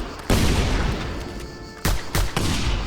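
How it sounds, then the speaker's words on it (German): Three loud, close blasts from a pump shotgun in Just Cause 2, set in a jungle: one, then a short pause, then two quick shots near together. "Pumpgun."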